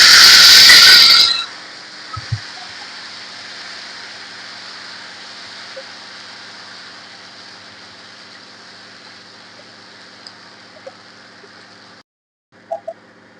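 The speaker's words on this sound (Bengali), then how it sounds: "কালো জিরে একটু ফোড়ন দিয়ে দিচ্ছি, টমেটোর পেস্টটা দিয়ে দিচ্ছি" Tomato paste and black cumin tempering hit hot oil with a loud burst of sizzle, which settles into a steady, quieter hiss that carries on for several seconds before a short break near the end.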